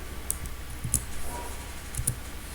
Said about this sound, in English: I am going to type a program for addition of two numbers